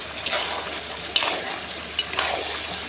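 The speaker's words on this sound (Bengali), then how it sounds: "আমাদের মাংস কষানো চলছে" Chicken pieces sautéed in oil for kosha mangsho, with a steady hissing sizzle and a few scraping stirs of the spatula in the pan, close and fairly loud.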